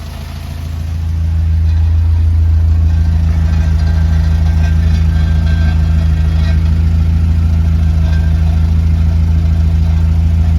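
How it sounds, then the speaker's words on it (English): A Morris Minor engine idles with a steady low hum and faint buzzing rattle from its exhaust, rising slightly at the start then holding loud and even with no voices. "That's the sound of the exhaust rattling, by the way, if I'm not mistaken"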